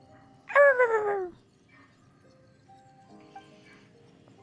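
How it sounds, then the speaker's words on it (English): A dog's bark or howl in the Genshin Impact game Skirk's story quest: one loud, drawn-out voiced call lasting about a second near the start, then quieter background game sounds. "Oh, there goes my dog."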